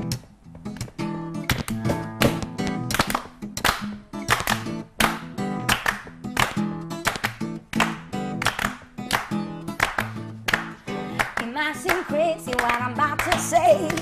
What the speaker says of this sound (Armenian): ես ծափերը կապահովեմ